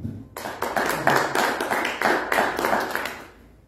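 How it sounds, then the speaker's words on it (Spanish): Small audience at a book presentation clapping for a retired teacher, a short burst of many hands applauding close by that swells and then tapers off. "Pido un aplauso al maestro"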